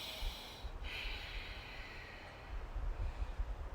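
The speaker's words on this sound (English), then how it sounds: "Breathe in the nose, out the nose. 3 breaths." A man breathes in and out through his nose during a yoga workout, slow close nasal breaths that rise and fall softly against faint background hiss, with no talking.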